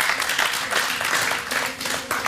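An audience applauds in welcome as a jury member is introduced at a stage event, a short, continuous wash of clapping at full strength from start to finish.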